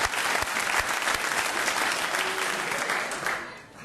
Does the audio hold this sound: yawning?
no